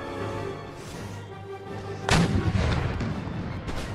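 Artillery guns fire in Empire Total War during an Ottoman Empire battle: a low musical hum gives way to a sudden loud cannon boom with a rumbling tail, followed by further thuds.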